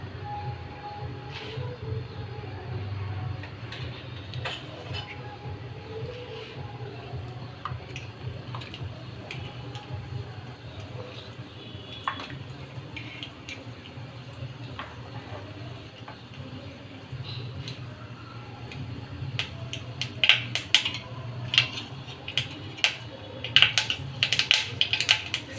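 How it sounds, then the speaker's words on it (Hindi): Mustard seeds crackle in hot mustard oil while lasooni palak is cooked: scattered sharp clicks and pops over a low kitchen hum, sparse at first and growing denser and louder near the end. "सरसों को तड़कने देंगे।"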